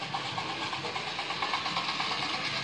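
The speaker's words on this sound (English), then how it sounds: "You might well notice it's got a piston thing in the tender, makes a chopping noise." A model steam locomotive, Princess Elizabeth 6201, runs along its track with a continuous hissing, chuffing mechanical whir at a steady level, no talking over it.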